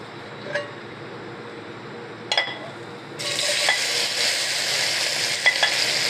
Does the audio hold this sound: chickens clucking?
no